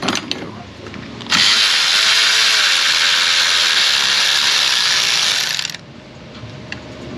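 A ratchet on a GM engine during a top-end teardown, run as an impact, gives one loud, steady whirring burst of about four and a half seconds, sharply starting and stopping, with quieter workshop clatter around it.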